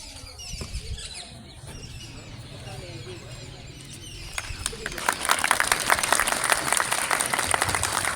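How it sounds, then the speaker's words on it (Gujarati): A crowd at a village primary school's Republic Day ceremony breaks into loud, dense applause about halfway through, rising from a quieter stretch of murmuring and faint outdoor sounds into sustained clapping that continues to the end. "તાળીઓના ગડગડાટથી આપણે વધાવી દઈશું."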